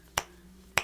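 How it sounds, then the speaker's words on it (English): Two crisp finger snaps, close and clean, spaced about half a second apart against a quiet room. "You can snap your fingers, do whatever you want."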